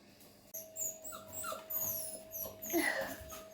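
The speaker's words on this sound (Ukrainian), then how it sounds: "Собаку все добре, не хвилюйтесь, вона скавчить" A dog left alone in an outdoor mesh pen whimpers and whines in a run of high, thin yelps and squeals, fairly close, with faint talk beneath.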